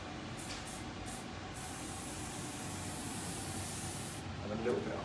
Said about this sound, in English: I'm just using a little bit of the more inside hairspray just to get the hair moving